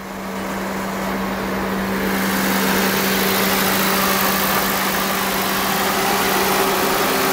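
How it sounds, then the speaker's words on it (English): A 2005 Toyota Prius liftback hybrid running, with a steady engine hum that swells slightly after the first second and then holds, loud and close with no talking. "This hybrid vehicle does start."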